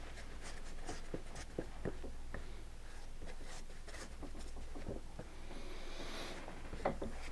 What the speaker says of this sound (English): I'm going to trim this up to fit the boot now.